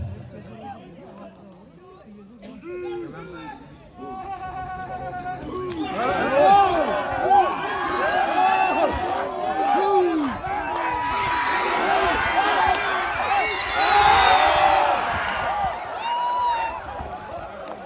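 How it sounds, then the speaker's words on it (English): A crowd at a wrestling match cheers and chatters continuously, with whoops and excited shouts rising and falling over a dense babble, loud and sustained throughout. "Come on, let's continue to cheer up for them."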